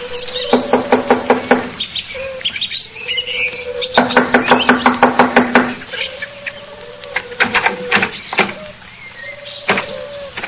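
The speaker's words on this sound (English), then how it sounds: "I'll knock on the door." Rapid bursts of knocking on a door in an old-time radio drama, several quick raps per burst, repeated a few times, with chirpy sliding tones in between.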